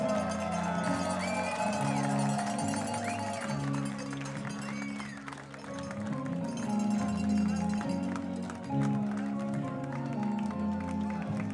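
Baseball fans in the stands cheer and shout at a summer league game, a steady wash of crowd noise with scattered yells and whistles lasting throughout, a few louder swells rising above the din.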